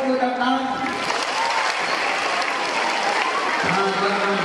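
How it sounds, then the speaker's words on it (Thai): Applause from an audience at a Korat folk song performance, moderate crowd clapping running steadily under a speaking voice and some tonal sound from the stage. "ขอเสียงปรบมือดังๆ"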